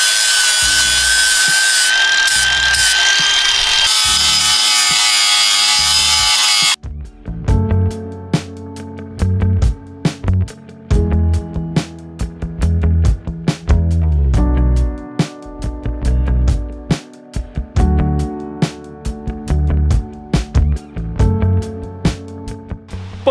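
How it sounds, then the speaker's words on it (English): The rusty wheel arch of a VW Razorback van is sanded back. A steady high-pitched whine opens, then gives way to a long run of repeated rasping, scraping strokes in uneven bursts, close and fairly loud, with no speech. "So I'm gonna sand all this back, see what we're dealing with"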